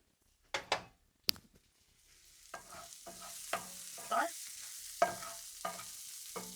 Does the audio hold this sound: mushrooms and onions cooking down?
yes